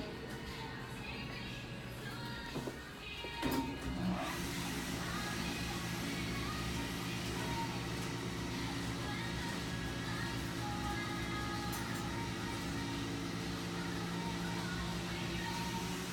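A Montgomery hydraulic elevator motor at a JCPenney in Valley West Mall hums in a steady, continuous drone after a short clunk near the start, with no talking.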